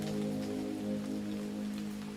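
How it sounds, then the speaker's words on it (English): Heavy rain drums steadily on an umbrella's fabric canopy outside on a dark, windy morning, a dense, continuous patter heard close and alone, with no voices. "heavy raindrops thunder against the fabric of the umbrella"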